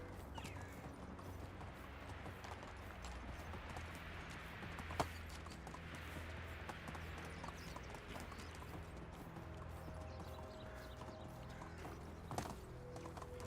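Horse hooves clip-clop in a steady trotting rhythm in the medieval village game Medieval Dynasty, continuous and fairly close over a mechanical background, with a brief whinny-like accent.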